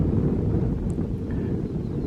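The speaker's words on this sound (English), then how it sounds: "hopefully the wind doesn't ruin this one again" Strong wind buffeting the microphone at a high lookout on the Appalachian Trail, a steady, loud, low rumbling roar that fills the moment with no talk.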